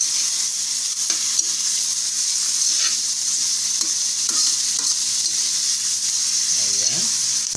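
Fried pork ribs for sinigang are stirred in a pan over a constant bright sizzle, with occasional scrapes and knocks from the utensil. There is no talking.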